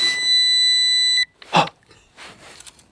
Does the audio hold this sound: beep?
yes